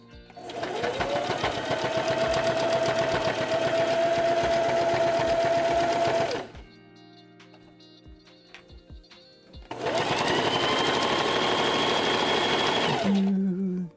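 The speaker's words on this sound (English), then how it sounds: "Yep, this machine wants to go. You don't have to prove it. We all hear you." A sewing machine running in a shop, two long loud steady whirring bursts of needle stitching separated by a few seconds of quieter pause, close and alone.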